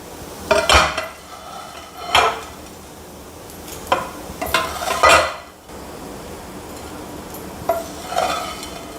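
Raw banana varuval fry scraped from a pan into a bowl, a handful of metallic spatula clanks and scrapes in short bursts, close and fairly loud with quiet gaps between.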